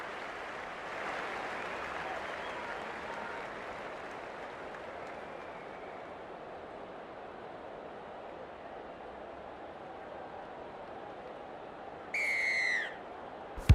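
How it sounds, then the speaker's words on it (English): Stadium crowd at a rugby league grand final kickoff, a broad sustained roar of cheering voices throughout, rising near the end with a sharp whistle blast. "The crowd's up."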